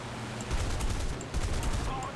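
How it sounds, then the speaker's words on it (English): Aircraft machine guns in War Thunder fire in short, rapid bursts with a dense low rumble, loud and continuous across a couple of seconds. "Oh, this is horrible shooting from me."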